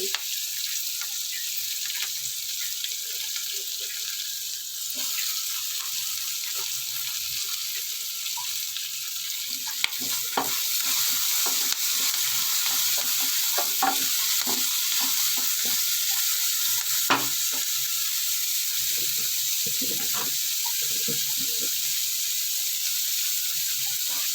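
Onions fry in a pan with a constant bright sizzle while a utensil stirs and scrapes intermittently, close and steady, with no speech.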